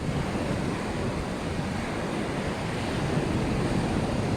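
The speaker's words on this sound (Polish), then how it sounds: "Jeszcze Wam pokażę teraz kawałek morza." Baltic Sea waves wash in a constant broad roar on a beach at Jastarnia, steady and fairly loud, with wind rushing across the microphone and no voices.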